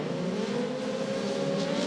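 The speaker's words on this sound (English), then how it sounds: "Little motorcycle engine Aussie racing cars are released down towards turn 1, up and over the hump, and then around the left-hander" Aussie Racing Cars with small motorcycle engines accelerate away at a race start at Symmons Plains, a loud, steady, high-revving engine roar from a pack of cars with no pauses.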